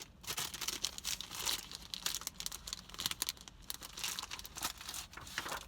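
A paper package is torn open by hand, its wrapper crinkling and crackling in irregular bursts of rustling and tearing, close up and fairly quiet, with no talking.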